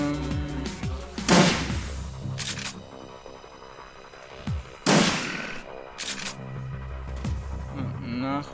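Gunfire from the turn-based video game Shadowrun Returns, with two loud broadband shot bursts a few seconds apart, each followed by a decaying tail, set over steady game music and lighter clicks.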